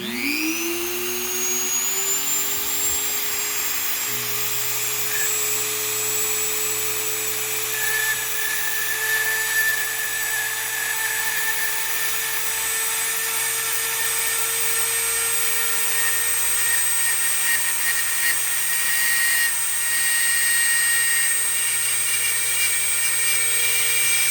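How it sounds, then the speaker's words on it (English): A small high-pitched rotary drill whines continuously for a long stretch boring through Lake Michigan beach glass, its tone steady with slight shifts as it grinds through. "I'm going to get the drill going."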